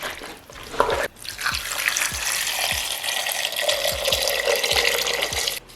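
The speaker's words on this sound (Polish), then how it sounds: "Następnie zalewamy bulionem bądź wodą" Broth pours steadily into a pot with a rushing splash, broken by a brief pause and a few soft clunks.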